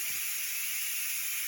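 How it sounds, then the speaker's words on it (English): Steam hisses steadily from a pot of vegan black bean soup on the stove, a constant close airy hiss with no talk over it. "So steam's almost gone now."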